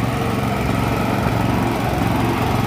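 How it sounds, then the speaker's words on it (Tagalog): A concrete cutter for asphalt runs loud and close with a steady, buzzing small-engine drone at constant level throughout, with no voices heard. "Yan po ang ating concrete cutter para sa asphalt."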